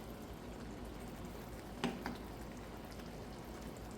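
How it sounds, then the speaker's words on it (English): Curry salmon in coconut milk simmers in a pan, a faint, steady bubbling hiss with a couple of soft pops near the middle, close and quiet with no voices. "Allow it to just simmer down for a minute."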